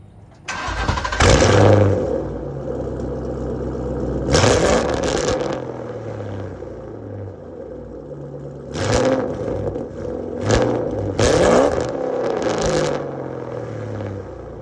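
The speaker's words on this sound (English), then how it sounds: "Let me show you what this bad boy sound like when I rev that bad boy up." A car nicknamed big red is started and revved hard through its exhaust, several sharp, loud surges that fall back to a rumbling idle between blips, with no talking.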